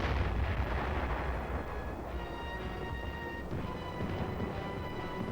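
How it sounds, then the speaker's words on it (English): Korean War combat footage of artillery and mortar fire laying a barrage ahead of advancing troops, a dense rumbling roar of distant blasts blending into continuous booming, fairly faint and steady with no voices. "the mortars and the artillery, which bring down a curtain of death just in front of the advancing troops"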